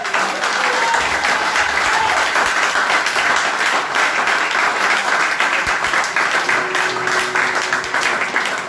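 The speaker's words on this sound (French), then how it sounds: "Est-ce que tu peux encore acclamer très fort?" Church congregation applauding loudly during a worship service, a dense, continuous roar of many hands clapping, with crowd voices mixed in and steady intensity throughout.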